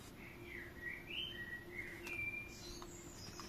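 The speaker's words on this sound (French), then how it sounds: "Ils sont vénères, les oiseaux," Several birds chirp and call in the evening outdoors, a string of thin, bright tweets rising and falling over a steady low background hum, moderately near and fairly continuous.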